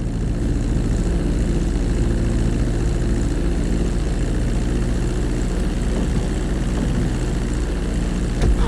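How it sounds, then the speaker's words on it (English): Airplane taxiing on a runway in Grand Theft Auto 5, a steady loud droning propeller engine with a low rumble that holds constant throughout, close and unbroken. "Now let's get the plane off the runway. Taxi over to the marked area and come to a complete stop."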